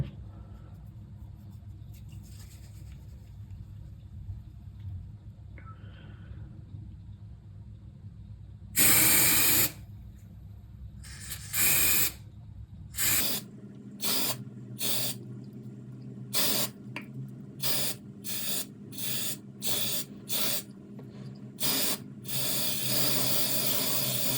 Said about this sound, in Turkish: Şimdi biz spreyi uygulamaya başlıyoruz.